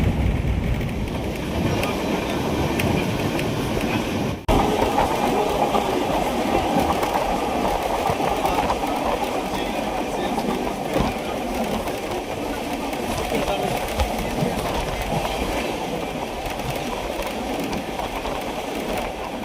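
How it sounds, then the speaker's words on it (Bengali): Continuous loud rumble and rattle from inside the Swarnanagar Express running between Jaisalmer and Jodhpur, with steady wheel noise and a sharp jolt early on. "জয়সালমীর থেকে ট্রেন ছেড়েছে বিকাল 5টায়, যোধপুরে পৌঁছাবে রাত 9:40-এ"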